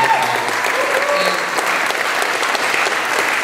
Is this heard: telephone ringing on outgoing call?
no